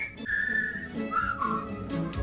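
A cartoon dwarf whistles a cheerful tune, sustained and sliding whistled notes over soft background music, heard close and moderately loud with no speech.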